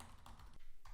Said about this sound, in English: this is how the Shure SM7B with the heavy keyboard clicking sounds